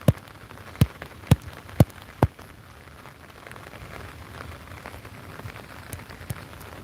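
Rain falls steadily on a phone and its surroundings outdoors, a soft continuous patter with a few sharp, close taps near the start.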